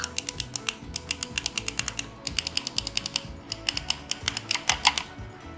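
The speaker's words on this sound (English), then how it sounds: "So I hope you can hear the click." Rapid clicking from a Lenovo Silent mouse, a steady stream of sharp, light clicks repeating in quick rhythm with short gaps, close up over a faint background hum.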